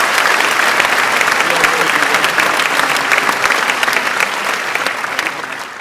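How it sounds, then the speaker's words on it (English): A large crowd gives a sustained, loud round of applause at a high school graduation ceremony, a dense, even roar of clapping lasting nearly six seconds with crowd noise mixed in. "So let's give him a round of applause."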